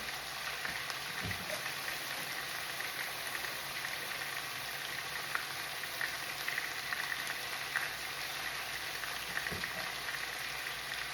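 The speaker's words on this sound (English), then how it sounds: "So I'm just going to add some water." Brown stew chicken sizzles and crackles in a pot after water is poured in, a dense, even hiss of frying that runs steadily throughout with scattered small pops.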